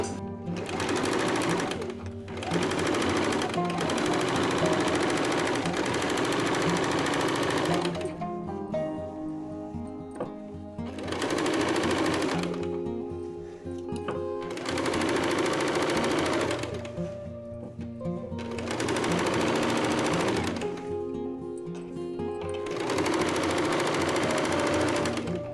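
Sewing machine running in long steady bursts as it stitches the back of a U-neck blouse, whirring loudly for several seconds at a time with short quiet gaps between runs.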